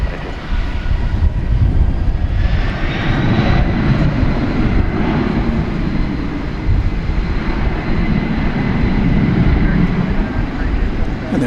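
A Boeing 767 airliner departs from a runway at Dallas Fort Worth airport at night, its jet engines making a steady, loud roar with a faint rising whine, under light wind noise.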